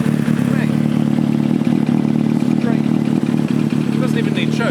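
A Kawasaki ZX-7R sport bike engine runs without choke, apparently on three cylinders, with a loud, uneven, rattly idle and a voice talking over it.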